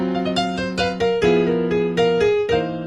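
Blues piano riff of fat, dissonant chords struck in a bouncing rhythm, roughly a dozen stabs over a few seconds, close and full with ringing overtones and no talking.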